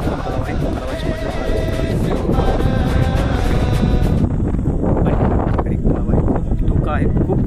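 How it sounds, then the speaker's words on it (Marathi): Strong gusting wind on top of Korigad hill fort, roaring and buffeting the microphone loudly and constantly, with a voice talking under the rush. "एवढा भरमसाठ असा वारा सुटला आहे,"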